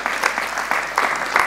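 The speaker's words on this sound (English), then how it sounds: "we'll give him a round of applause because that's pretty amazing" Brief round of applause from a conference audience at a permaculture talk, moderately loud clapping with uneven bursts, heard briefly with no talk on top.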